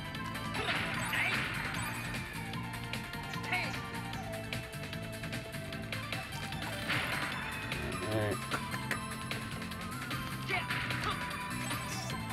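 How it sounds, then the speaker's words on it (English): Pots smash repeatedly in the video game Goemon's Great Adventure, brief crashing hits recurring every few seconds over continuous game music and sound effects. "It's like smashing pots in Zelda."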